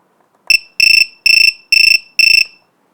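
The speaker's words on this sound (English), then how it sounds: "3 beeps tell you that it's disconnected or disarmed" A VIFLY Finder 2 self-powered drone alarm sounds a short chirp followed by four loud, shrill, evenly spaced beeps, close and alone.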